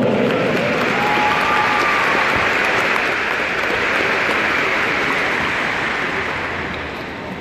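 An audience gives sustained applause at a military police college graduation ceremony in Manaus, a dense, steady roar of many hands that fades slightly toward the end, with no talking over it.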